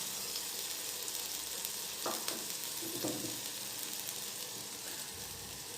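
Meat frying with black pepper, coriander, red chilli and turmeric powders in a pan for Afghani gosht, a steady close sizzle with a few soft stirring scrapes and no talk.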